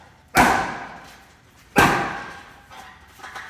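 Two heavy punches land on a heavy bag about a second and a half apart, each a loud close thud with a short decaying rattle, followed by faint lighter taps.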